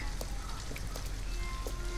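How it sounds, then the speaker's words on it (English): Steady rain falling in the video game Detroit: Become Human, a dense close hiss of drops pattering on surfaces with scattered individual drips, no voices. "At least we'd be out of the rain."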